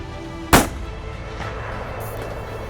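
A hunting rifle fires at a kudu on an African safari: one sharp, loud shot cracks out early, then decays quickly into quiet bush ambience.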